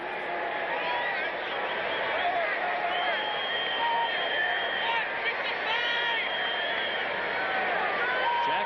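A football stadium crowd of Eagles fans at Philadelphia in a 1986 game against the San Diego Chargers keeps up a continuous distant roar and cheering for Randall Cunningham, heard beneath a broadcast commentator talking.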